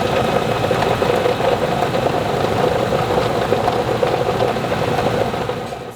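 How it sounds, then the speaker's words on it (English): A van engine idles with a bad metallic knocking, a steady rapid rattling clatter over a low mechanical drone, loud and close, running continuously before easing slightly at the end. "we started hearing a pretty bad sound coming from the engine."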